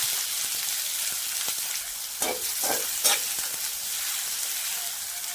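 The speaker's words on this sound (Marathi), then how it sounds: "एक चमचा जिरा एक चमचा मोहरी टाकून घेऊयात यामध्ये बारीक कट केलेला कांदा परतून घेऊयात" Finely chopped onion sautés in oil with cumin and mustard seeds, a steady close sizzle broken by a few louder stirring scrapes and light crackles midway.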